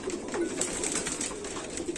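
Pigeons kept in a home collection coo in low, throaty murmurs, several overlapping nearby, with faint higher chirps above and no talking.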